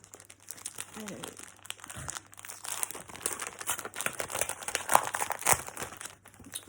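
Craftelier scrapbooking papers being handled: close, repeated crinkling and rustling with a few sharper crunches, continuing through the whole stretch while someone talks in French over it.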